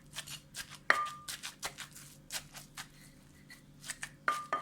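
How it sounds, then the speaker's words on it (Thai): Chili paste with fermented fish is pounded in a mortar, giving a close, quick run of rhythmic pestle thumps with occasional sharper knocks, continuing steadily throughout. "ต้องใส่ปลาร้าด้วย โขลกกให้เข้ากันนะคะ"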